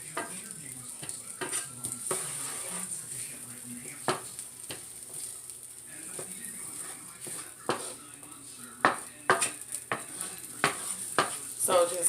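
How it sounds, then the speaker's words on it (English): Vegetables and garlic shrimp sizzle in a hot pan while a utensil stirs, bringing repeated scraping strokes and clatter over a steady frying hiss, close and fairly loud. "let this stir until you get your vegetables almost to a full saute"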